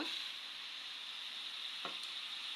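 Whole spices such as cloves, cardamom and cinnamon frying in hot oil for a meat dish, a steady close hiss of sizzling with a brief stir or scrape partway through.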